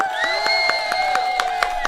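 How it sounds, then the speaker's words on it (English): A short burst of crowd cheering and whooping plays as a sound effect on a live synth show, loud and dense with rhythmic clapping throughout, no talk over it. "give you a cheer"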